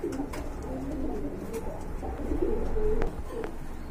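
Pigeons coo in low, repeated rolling calls, with green neck pigeons and two females among them at a pigeon market stall. The cooing sits at moderate volume over steady background murmur and goes on throughout.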